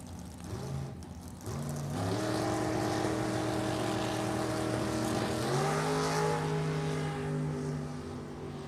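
A 1974 Ventura and a 2002 Mullis-built dragster launch at a drag strip, engines rising in pitch through gear changes, loud and sustained, no voices.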